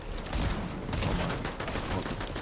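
Gunfire in a Fortnite solo cash cup match, with several loud, close shotgun-type blasts over about two seconds in a busy battle mix, with no talk.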